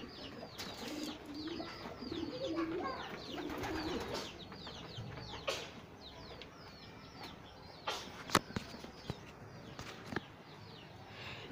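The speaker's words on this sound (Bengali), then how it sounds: "কবুতর খেলা করতেছে" Pigeons cooing repeatedly on a hot, sunny rooftop, soft layered calls close by with some wing flutters and sharp clicks toward the end, no talk.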